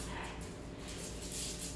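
Playful dogs tussling indoors in a tug-of-war game, giving faint growls, whimpers and yips under a steady low hum, with a few quiet voices nearby.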